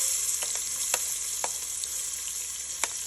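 Onions sautéing in a dal tempering of turmeric, asafoetida, ginger-chilli paste and garlic, giving a steady close sizzle with a few sharp pops and stirring clicks, no voices.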